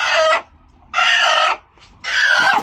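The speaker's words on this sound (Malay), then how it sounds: "Oh, ni ayam paling ganas." Three loud, close rooster calls on a farm in rapid succession, each a harsh burst separated by brief pauses, with no talking.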